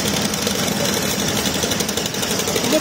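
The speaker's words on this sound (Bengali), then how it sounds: "এখানে সবসময় তো নৌকা আসতে থাকে, তাই না? ট্রলার আসতে থাকে।" A river trawler's engine runs at a sand-extraction site on the Jadukata river, giving a loud, steady, close drone with a fast throbbing rattle and no pause.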